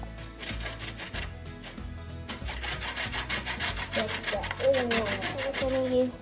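Lemon being zested on a grater for cupcake batter and buttercream, giving steady repeated rasping scrapes in a quick back-and-forth rhythm, close and fairly loud, with a faint tonal sound near the end.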